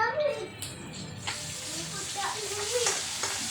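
Food sizzling in a pan at a moderate level, with a few scraping stirs scattered through it and quiet voices in the background.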